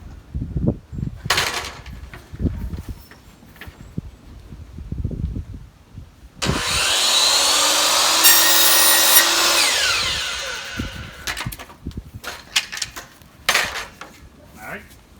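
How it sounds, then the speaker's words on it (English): Power saw cutting wooden baseboard trim, a loud sustained whine of about three seconds, framed by clattering handling noises before and after. "I'll swing my saw back around to the outside cut,"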